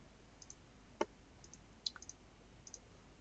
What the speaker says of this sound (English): and I click on it